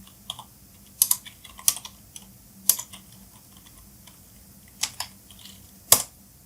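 Fingers type a web address on a computer keyboard with scattered, quiet key clicks and a few sharper taps. The keystrokes come in short, irregular bursts separated by pauses.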